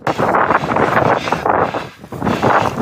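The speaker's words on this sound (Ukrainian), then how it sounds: "через сильний вітер навіть вдихнути складно" Strong wind roars across the summit of Mala Hoverla, a loud, steady gusting rush with brief dips and surges that fills the whole clip.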